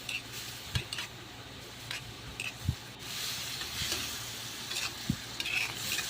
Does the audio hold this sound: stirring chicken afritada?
yes